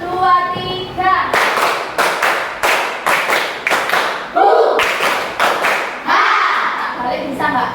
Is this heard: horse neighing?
no